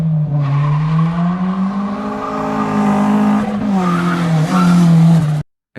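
Engine of a Honda EK sedan running before its engine build, a loud, steady, close drone that climbs gently in pitch, rises again with a few revs near the end, then cuts off abruptly.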